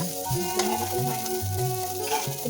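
Noodles with spices fry in a pan, sizzling steadily at close range while being stirred, with scraping strokes over the continuous crackle.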